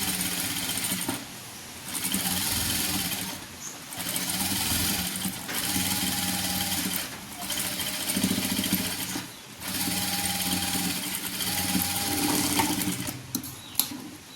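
A sewing machine stitches a churidar top in several long, steady runs broken by short pauses, close and fairly loud, with no talk.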